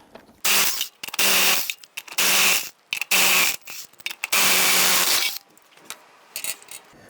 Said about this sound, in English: Using your 19mm socket, loosen and remove the lug nuts.